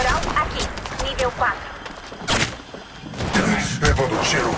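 Bursts of gunfire in the video game Apex Legends Mobile, several sharp loud shots and volleys at irregular intervals, with a voice speaking over the action.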